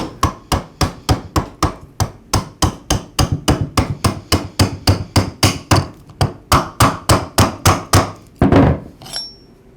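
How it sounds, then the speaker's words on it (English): A length of metal tubing slid over a Ryobi string trimmer shaft is hammered against the retainer in a steady run of about thirty sharp, evenly spaced taps, loud and close, ending with one heavier knock. "I slide the tubing over the shaft and then tap the retainer into place."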